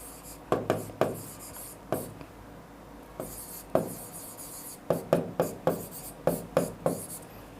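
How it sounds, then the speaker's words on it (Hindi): Pen strokes of handwriting while solving a Class 10 trigonometry exercise, a quiet series of short scratchy strokes in uneven bursts, close and soft with no talk over them. "सबसे पहले देखो ऐसे लिखेंगे गिवन"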